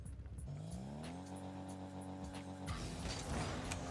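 A video game car's engine hums and rises in pitch as it accelerates, with a faint tire squeal, steady and moderately quiet throughout.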